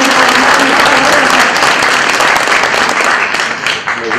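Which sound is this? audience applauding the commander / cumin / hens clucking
audience applauding the commander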